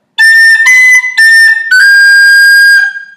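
A close, loud tin whistle carries a short phrase of the Irish tune Scatter the Mud, a few clipped tongued notes leading into a long sustained final note that tapers off, with no talk.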